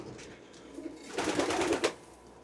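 Racing pigeons in a loft, a burst of soft cooing and fluttery bird calls swelling midway through, moderately close with quiet room tone before and after.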